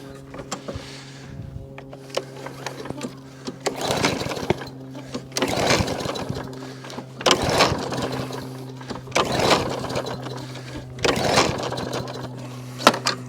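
A lawn mower with an overhead valve engine and a dirty carburetor is pull-started again and again without catching, each rope yank a rising whirring rasp roughly every two seconds over a steady low hum, close by.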